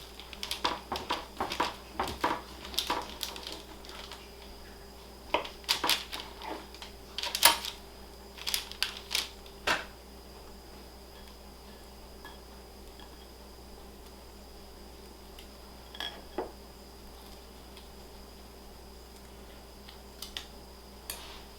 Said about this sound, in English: I'm going to go ahead and cut me a slice and put some butter on it